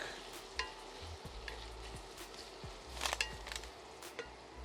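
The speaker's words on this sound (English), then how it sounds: "as our onions start to sweat and cook." Onions sweating and cooking in a pan, a soft, constant sizzle with occasional knocks and stirring clatters nearby, no voices.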